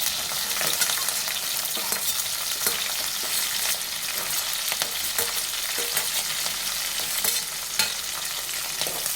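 Onions and green chillies fry in hot oil with bay leaves for a chicken curry gravy. A loud, continuous sizzle runs throughout, with frequent scraping strokes of the stirring spoon.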